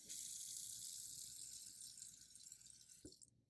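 Tap water runs in a steady, close gush over a sink for about three seconds while hands are washed, then shuts off with a brief clunk, leaving near-silence.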